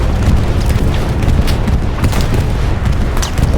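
In the World War II shooter Hell Let Loose, a bombing run produces a loud, continuous rumble of deep blasts, with sharp crackling bursts scattered on top.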